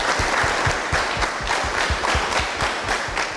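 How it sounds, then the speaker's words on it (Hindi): An audience applauds at a Pakistani television success-story event, a dense, steady burst of clapping from many hands that carries through the whole stretch with no talk. "मेरे ख्याल से तालियां बजा दीजिए साले के लिए।"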